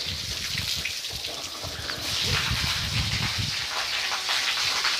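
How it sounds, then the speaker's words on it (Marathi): Water is poured out of a pipe at a house in a village, a steady broadband splashing rush that grows slightly louder halfway through and carries on without talk. "इथं पाईप पडला आता टाकू आपण पाणी"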